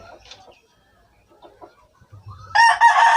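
Chickens and roosters at a small backyard chicken farm, with a loud, close burst of clucking and crowing near the end after quieter murmuring and faint voices.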